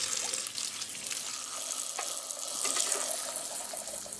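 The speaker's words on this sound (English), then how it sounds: "quick rinse of my beans here" Black beans get a quick rinse under a running kitchen tap, a steady hiss of splashing water in a sink that runs unbroken for a few seconds at moderate volume.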